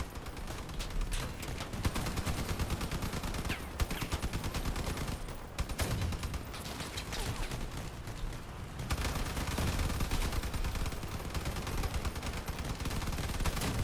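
Sustained gunfire from combat vehicles in the video game Crossout, a dense, continuous rattle of rapid shots with heavier bursts, loud and unbroken for the whole stretch.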